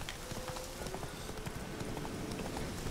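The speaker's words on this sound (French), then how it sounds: "courir, on va galoper." A horse gallops in The Witcher 3 video game, with quick rhythmic hoofbeats running steadily at a fairly low level over a busy game soundscape.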